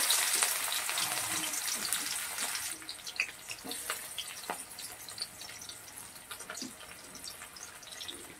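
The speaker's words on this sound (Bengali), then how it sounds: "পেঁয়াজটাকে আমি একটু লাল লাল করে ভেজে নেব।" Chopped onions fry in hot oil with dried red chillies, starting with a loud hiss that eases into a steady, close crackling sizzle with scattered pops.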